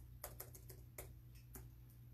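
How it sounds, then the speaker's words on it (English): Quiet, irregular clicks of fingers typing on a computer keyboard, a handful of light taps spaced unevenly over a low steady room hum. "Typing sideways is hard."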